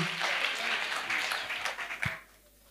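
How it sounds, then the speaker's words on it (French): A congregation applauds at a healing and deliverance crusade in Bafoussam: dense, steady clapping that fills the space, thins briefly, and then fades out near the end. "Acclamons Jésus-Christ."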